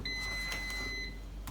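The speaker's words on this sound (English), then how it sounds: "apologies for the beeps" Electronic beeps from a kitchen appliance near a muffin pan, two steady high tones sounding together for about a second against quiet room noise.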